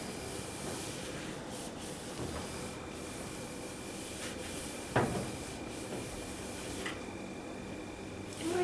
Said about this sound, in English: If I cared about that, I would not be using a Rust-Oleum turbo can.